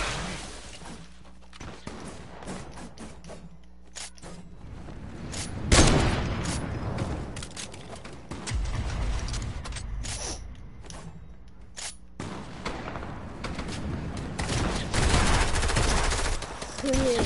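Fortnite gunfire rattles in repeated bursts and single cracks, loud and near, with a sharp big blast midway and steady game noise between volleys.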